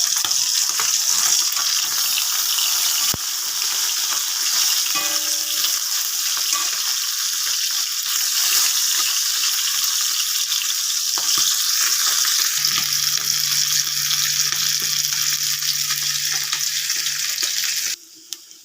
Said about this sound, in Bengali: মাছগুলো এবার উল্টে নেবো, 1 পিঠ ভাজা হয়ে গেছে